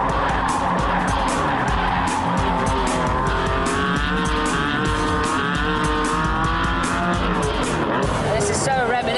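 A prototype British sports car driven hard around a racetrack, its loud, continuous engine roar holding steady throughout with tire squeal and skidding, while a person talks over it.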